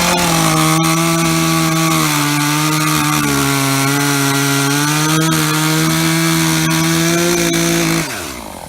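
A loud chainsaw drones steadily up close, its engine pitch shifting slightly as it bites into wood, then cuts off near the end.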